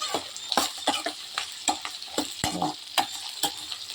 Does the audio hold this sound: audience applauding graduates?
no